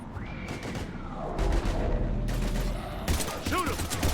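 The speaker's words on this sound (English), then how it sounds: "We're taking heavy fire." Gunfire erupts in the video game Mass Effect 3 during a firefight, with repeated bursts of shots and booms layered under urgent shouted voices.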